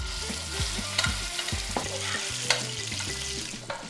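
Oryx steak fries in a pan with a steady sizzle while a utensil scrapes and taps against it in short irregular strokes, close and clear with no voices.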